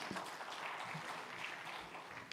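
An audience at a medical summit on hepatitis in Chennai, India, applauding, a steady wash of clapping that holds evenly from start to finish.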